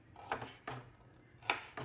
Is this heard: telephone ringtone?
no